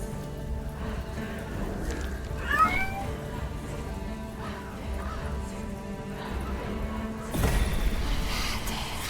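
Cats meow repeatedly in the dark horror game 1666 Amsterdam, several rising cries in the middle distance over a steady eerie ambient drone, with a louder burst of noise near the end.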